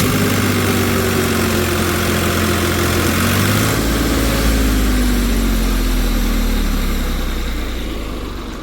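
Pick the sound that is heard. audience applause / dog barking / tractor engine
tractor engine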